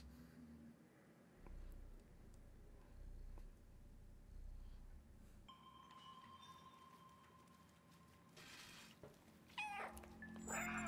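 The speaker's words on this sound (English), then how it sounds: "meow, meow, meow, meow, meow, meow, meow, meow, meow, meow" A cat in the video game Stray meows again and again in short calls, with game ambience and a soft watery trickle in the background and no talking.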